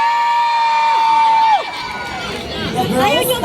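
A crowd cheers and shrieks at a gay queen pageant in a Marikina barangay, with loud, high sustained yells that fall into a rising hubbub of shouting and chatter.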